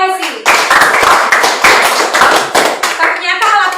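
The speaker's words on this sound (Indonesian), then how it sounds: "tepuk tangan untuk Chelsea." Classroom applause for a student bursts out and holds steady, many hands clapping in a dense, loud, continuous patter before tapering off.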